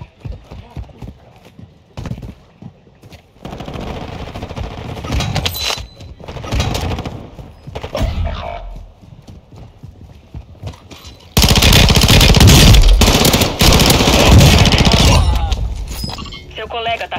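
Gunfire crackles in Call of Duty: Warzone 2.0 on Ashika Island, with bursts of shots coming and going, then a loud, dense stretch of rapid fire near the end. Game voices speak between the shots.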